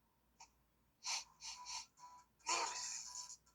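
Cartoonish sneezes and sniffles from a character in the Detective Pikachu video game, a few short bursts followed by a longer, louder sneeze, with no speech over them.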